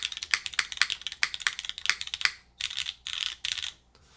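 Rapid mechanical keyboard typing with crisp, clacky keystrokes in quick bursts, close and fairly loud, with brief pauses between runs.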